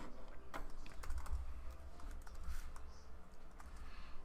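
Rapid, steady typing on a computer keyboard while entering Excel VBA macro code, the clicky keystrokes close and continuous with no voice over them.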